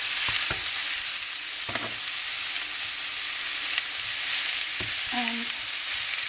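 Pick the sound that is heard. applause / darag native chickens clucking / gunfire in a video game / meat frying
meat frying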